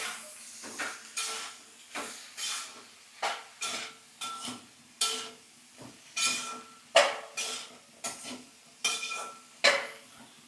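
Repeated scraping strokes of a utensil stirring potato and okra tamarind curry in a metal pan, a steady rhythm of clinks and scrapes, close and moderately loud with no talking.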